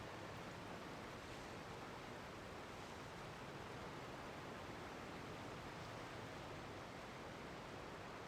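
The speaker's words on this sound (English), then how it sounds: "All I can hear in my ears is like roaring water." Roaring water in the Genshin Impact video game, a steady dense broadband rush like a waterfall or heavy surf, faint and unchanging throughout with no other sounds.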